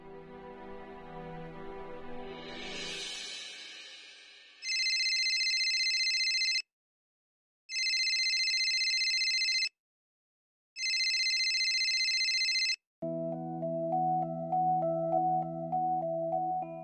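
A phone rings in three long, even electronic bursts separated by short silences, after a swelling musical passage and before a melodic tone sequence.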